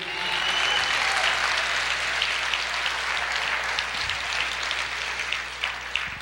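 Congregation applauding during a Portuguese-language church sermon, a loud sustained burst of clapping from many people in a hall, steady throughout with a slight fade near the end.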